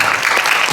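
An audience applauds at a multicultural committee launch event in Korea, a dense, loud, continuous clatter of clapping with no talk.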